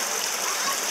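Flowing water near a suspension bridge on Grouse Mountain, a steady close hiss of running water with no pauses.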